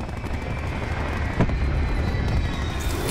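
Continuous rumbling barrage of explosions and gunfire from an aerial strafing run in a war video game, dense and steady with a sharper blast midway.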